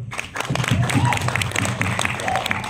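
Crowd at an Indonesian horror film event applauds a record announcement, with dense clapping and cheering over a low booming background and voices.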